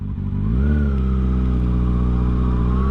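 A motorcycle pulling away in first gear as the throttle opens gently, its engine note rising smoothly and steadily, loud and close, with no one talking.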